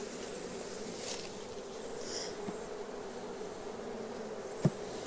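Honey bees buzz around a hive in a steady, even drone with a few louder passes close by, a faint continuous insect hum that holds throughout with no voices.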